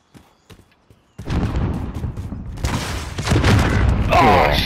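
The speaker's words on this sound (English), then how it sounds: "rocket launcher" A rocket launcher blast hits in Call of Duty: Modern Warfare, a sudden loud boom after a quiet stretch with faint footsteps, rolling into sustained rumbling debris and crackle.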